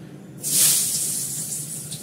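Cumin seeds hit hot oil in a kadai, a sudden bright hissing sizzle that bursts in after a quiet moment, then settles into a steady softer crackle, with no talk.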